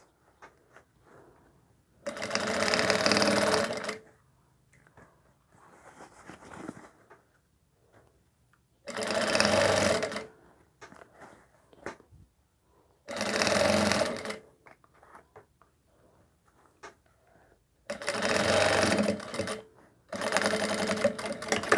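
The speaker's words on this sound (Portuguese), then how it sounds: "vou passar uma costura aqui para prender esse viés" Sewing machine stitching a seam to hold bias binding on a sleeve, running in five short bursts of rapid whirring separated by quiet pauses and faint handling sounds.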